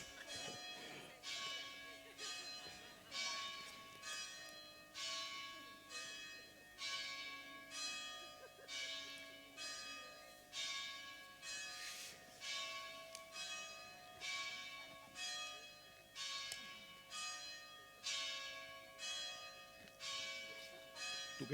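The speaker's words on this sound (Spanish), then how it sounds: "Te sonaron la campana." Church bells ring out in a steady, repeated series of bright, resonant strikes, each swelling and decaying in a regular rhythm, at a conference event with voices faintly underneath.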